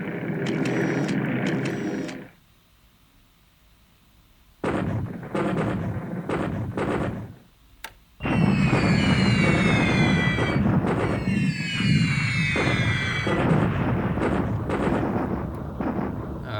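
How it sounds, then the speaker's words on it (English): Naval battle explosions from War in the Pacific crash out in bursts with sharp cracking and crackling impacts, separated by silent gaps, then build into a long loud stretch of repeated blasts. "So big explosion."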